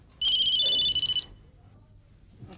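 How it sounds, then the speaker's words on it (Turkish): A telephone rings loudly in one sustained electronic burst of about a second, alone, then stops and leaves a quiet room. "Telefon. Telefon çalıyor."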